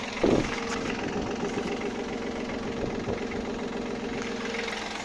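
A Kubota Aste A15 tractor engine idles at a steady, moderate level, thrumming evenly with a faint rhythmic knock and one brief clunk near the start, with no voices.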